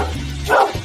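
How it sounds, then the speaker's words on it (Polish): A friendly dog visiting a former blast furnace worker in Britain gives a single short, loud bark close by, over a low background hum. "pies jest przyjazny"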